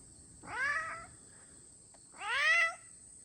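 A farm cat gives two distinct, fairly loud meows about two seconds apart against a quiet background with a faint high hum.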